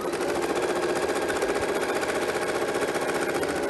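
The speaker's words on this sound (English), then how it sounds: "we always have to let the machine get started and secure that thread" A sewing machine runs at a steady fast pace as it starts a decorative trim outline and locks the thread, a continuous close mechanical whirring hum with rapid needle chatter throughout.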